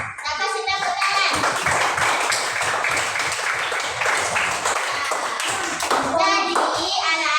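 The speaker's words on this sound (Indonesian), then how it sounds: "Saya kasih tepuk tangan." Classroom children clapping their hands together in a lively burst of rapid applause, close and loud, with young voices chattering through it.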